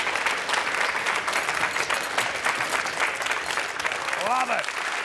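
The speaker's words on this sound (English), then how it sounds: "Round of applause." A dense patter of clapping from a MasterChef Australia kitchen fills the whole stretch, steady and close, with a brief voice rising near the end.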